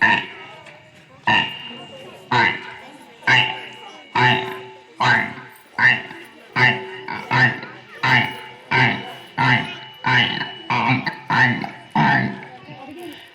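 A person imitates frogs croaking with a long run of regular, throaty pulses, each a short burst, repeated steadily for several seconds.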